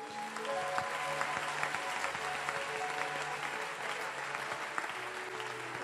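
A church congregation applauds in a dense, continuous wash of clapping that fills the space evenly from start to finish, with a sustained tone and faint voices underneath.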